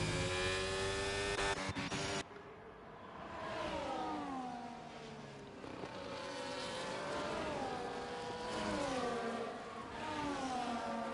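Race car engines in the RIZE Racing League sim racing game at Abu Dhabi, whining and rising and falling in pitch through shifts and throttle changes, several cars droning continuously.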